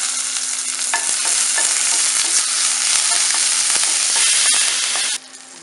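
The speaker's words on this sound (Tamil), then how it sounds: "கடுகு நல்லா பொரிஞ்சிருச்சு. இப்போ ஒரு வரமிளகா, கொஞ்சம் கருவேப்பிலை" Mustard seeds, a dried red chilli and curry leaves sizzle and crackle steadily in hot oil, close and loud, with small pops throughout before the sound drops away abruptly near the end.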